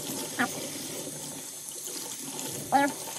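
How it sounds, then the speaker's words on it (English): Hot tap water, about 180 degrees, runs steadily into a sink to rinse a leaking aquarium canister filter, a constant close hiss of flowing water with two brief bursts of voice over it. "We'll use nice hot water."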